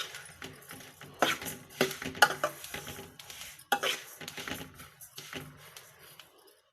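Crushed almonds roast in a dry pan, rattling and scraping in uneven bursts as a spoon stirs them, with soft sizzling between strokes.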